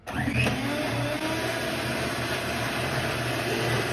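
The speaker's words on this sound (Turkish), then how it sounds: "Ve şimdi bunları karıştıracakmışız ama miksere ihtiyacım var." Electric kitchen mixer beating gingerbread icing with powdered sugar, a continuous whirring motor hum that starts at once and holds steady close by.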